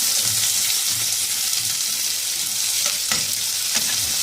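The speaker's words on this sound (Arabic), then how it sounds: "هنحط معاها شويه زيت ومعلقه سمنه، وهنضيف البصله بتاعتنا المفرومه" Minced onions sautéing in a pan of oil and a spoonful of ghee, a steady close sizzle with a few stirring scrapes and clicks throughout, no voices.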